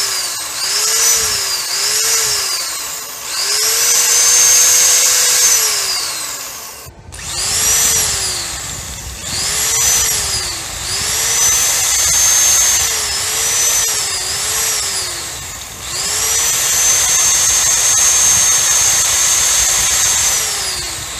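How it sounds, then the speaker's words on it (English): An unloaded electric drill powered by a 2000 W pure sine wave inverter in a 2012 Chevy Volt is revved repeatedly, each loud, close burst whining up in pitch and winding back down, with short gaps between. "I have a drill here, and it's not like loaded or anything. I'm gonna just, rev it up a few times."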